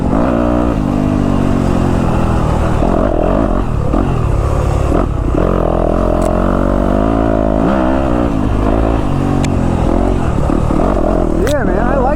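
A Yamaha YZ250F four-stroke dirt bike, Monster Energy edition, roars steadily through the woods, its engine rising and falling with throttle changes, loud and close throughout, with some clattering from the trail.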